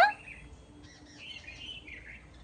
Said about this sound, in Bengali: পাখিগুলোকে খুঁজে পাচ্ছে না, কোথায় ডাকছে, কানে শুনতে পাচ্ছে।